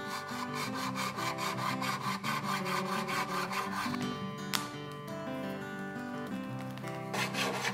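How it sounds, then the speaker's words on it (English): Acoustic guitar frets being leveled with a fret file and 320-grit sandpaper on a leveling bar; steady, rhythmic rasping strokes repeat close up throughout, with a faint ringing tone underneath and no talking. "The fret file that I used there and the sandpaper on the leveling bar is 320."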